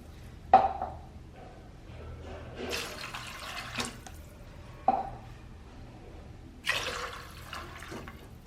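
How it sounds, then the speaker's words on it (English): Water poured into a cooking pot holding smoked pork, kidney beans, dry red chilies and salt for a Chang Naga dish: several short, splashy pours with quiet gaps between them, close by, with no talking. "Add water."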